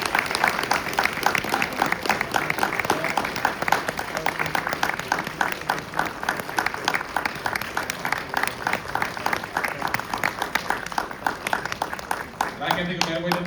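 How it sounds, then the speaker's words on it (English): Sustained crowd applause fills a comic convention panel hall at the close of a JAG cast panel, a dense, steady patter of many hands clapping at even loudness throughout, with voices mixed in underneath. "Great round of applause."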